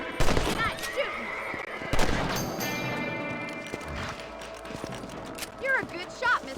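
Rifle shots fired at rabbits in the video game Red Dead Redemption, a few sharp cracks near the start and middle among game sounds and horse hooves, with talk over parts of it.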